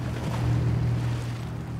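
Heavy truck pushing through deep river water in the Snowrunner video game, a steady low engine drone under continuous rushing, sloshing water noise, loud and close throughout with no talk.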